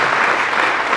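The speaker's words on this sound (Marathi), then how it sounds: "तो जोरदार टाळ्या होऊन जाणार." Loud, continuous applause from a college audience at the inauguration of an arts-circle event, a dense steady wash of clapping filling the whole moment with no voices on top.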